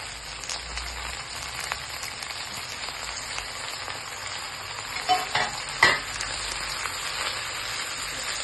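Spinach fries in a pan for chutney with a steady, close sizzle. Stirring scrapes and clatters rise over it for a moment near the end.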